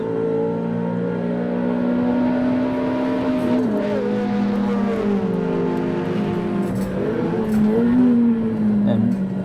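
A Ferrari 360 engine revs loud and close on the Nürburgring Nordschleife, its strong, sustained note climbing and dipping through the gears, with a voice talking over part of it.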